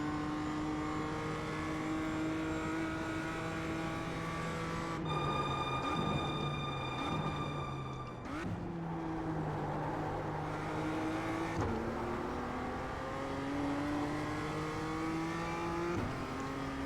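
A BMW M2 CSR race car in the iRacing sim lapping a circuit, its engine droning steadily and climbing through the gears with sharp upshift drops and a brief lift near the middle, loud and close without talk.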